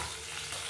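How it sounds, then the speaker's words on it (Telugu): Chana dal and urad dal frying in about two spoons of oil over a low flame, a steady soft sizzle heard close and alone. "లో ఫ్లేమ్లో పెట్టుకొని వేయించుకుంటున్నా"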